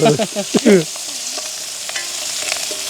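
Onions and green chillies sautéing in a pan, a steady hissing sizzle with light clicks of stirring, opened by a few brief voice-like sounds at the start before the frying carries on alone.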